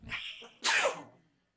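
A single sharp sneeze up close, a short intake then an explosive burst that fades quickly into quiet.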